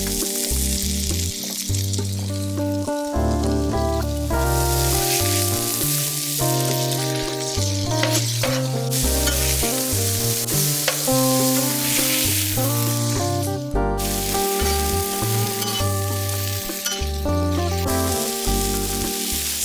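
Slices of bread fry in a hot pan for bookmaker's toast, giving a loud, continuous close sizzle with crackling fat and occasional scraping as the slices are handled.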